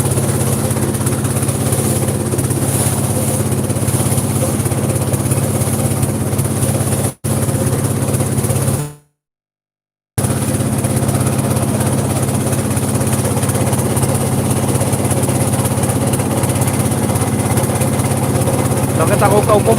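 Motor boat engine on a boat trip to the Sada Pathor tourist spot at Bholaganj, Sylhet, a loud continuous close drone with a voice talking over it, broken by a brief cut to silence midway.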